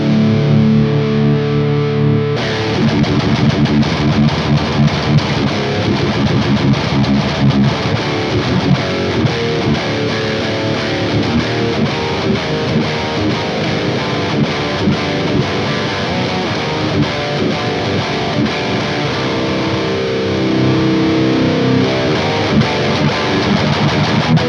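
A heavily distorted electric guitar played through a Hell Razor or MTL MK2 amp rings out loud and sustained, with chugging riffs and ringing chords filling the whole passage with no talking.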